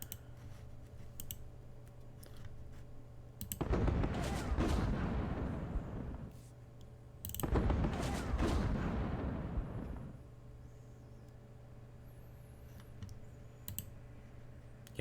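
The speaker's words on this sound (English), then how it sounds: "Let me also open fire with this tank at that enemy position right there." Two heavy tank cannon blasts in the Vietnam war game Squad Battles Vietnam, set in Hue City 1968, each a loud boom with a long rumbling decay, separated by a few seconds over a quiet background hum.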